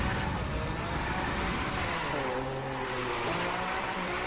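A Lamborghini Murcielago drifts in The Crew 2 video game, its engine holding a loud, continuous roar with shifting pitch as the car slides through a drifting stage, with no talk over it.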